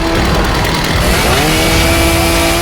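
A chainsaw runs loud and steady in the 2006 horror film Texas Chainsaw Massacre: The Beginning, its engine whine climbing in pitch partway through and holding a sustained buzzing drone with no talk over it.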